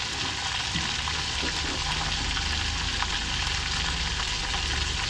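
Vegetables for pinakbet fry in a pan, giving a steady, close sizzle with a constant hiss that runs unbroken throughout, with no voices over it.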